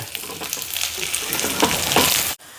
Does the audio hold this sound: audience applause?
no